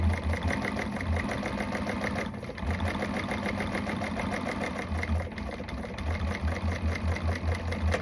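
A sewing machine top-stitches a bag, its motor humming in a steady, even run with two brief pauses between stretches of stitching. No voices are heard.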